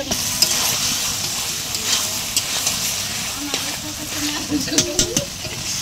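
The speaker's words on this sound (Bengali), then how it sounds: "এই যে রান্না দেখে বুঝতে পারতেছেন কত সুন্দর হবে" Spiced curry being sautéed in a home kitchen pan, with a continuous loud sizzle and frequent scraping stir strokes throughout.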